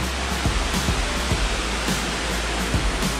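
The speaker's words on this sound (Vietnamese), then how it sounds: "cái thác nó vẫn giữ được vẻ nguyên bản của nó." Tạt Nàng waterfall in Vân Hồ, Sơn La, Vietnam, pours in a dense, constant roar of rushing water, loud and close, with no voices.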